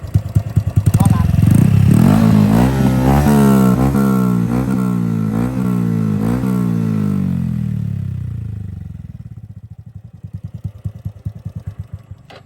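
A nearby motorcycle with an aftermarket RAN wrinkled-style exhaust revs hard with a deep rumble, then the engine winds down and settles into a choppy, pulsing idle.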